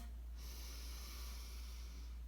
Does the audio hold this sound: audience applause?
no